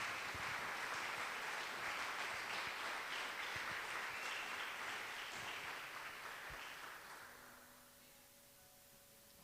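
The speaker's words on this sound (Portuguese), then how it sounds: "Se você está acreditando, aplauda o Senhor em nome de Jesus." A church congregation applauds in a dense, sustained burst of clapping that gradually fades away toward the end, leaving a quiet hum.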